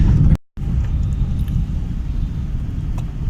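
Maruti Suzuki Alto hatchback engine pulling under throttle while driving, a steady low rumble heard from inside the car after a brief cut, continuing evenly to the end.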